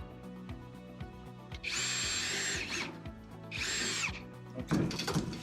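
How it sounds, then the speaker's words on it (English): A power drill whirs in two short bursts close by, drilling a hole for a kayak mount, with a brief wooden clatter right after. "Drill the first hole."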